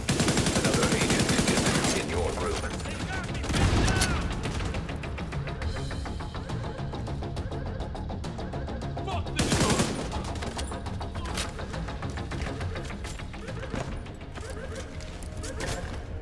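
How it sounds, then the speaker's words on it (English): Turret gunfire rattles in The Division 2, rapid sustained bursts of shots with a couple of louder heavy blasts standing out, continuing throughout at moderate distance with no talk. "Dude, my man, using a turret."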